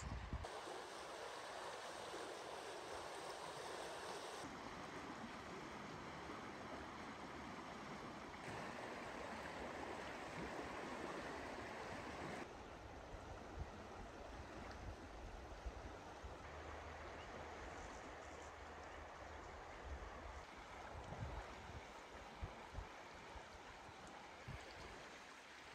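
The Lower Deschutes River flowing past the shoreline near Trout Creek Trail, a continuous broad rushing wash of water with a faint low rumble, steady throughout.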